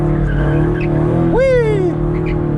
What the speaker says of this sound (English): tried to do a burnout